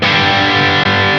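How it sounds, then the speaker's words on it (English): A Marshall Silver Jubilee style amp on its lead channel at a lower gain setting with the clip engaged rings out a loud, sustained distorted guitar chord, briefly cut once before continuing. "Let's go to lower gain setting on the lead channel here with the clip engaged on the Silver."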